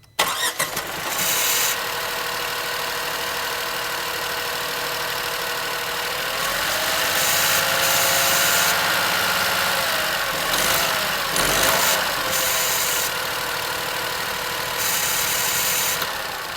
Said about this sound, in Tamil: இதோடைய இன்ஜின் நோட்டை கேளுங்க.